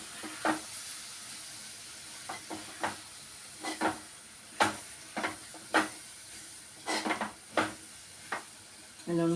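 A spoon scrapes and taps around a pan, stirring ground sugar mixed with powdered cardamom and cumin. Irregular scrapes and clicks stand out over a steady low hiss of gentle cooking, with no talking.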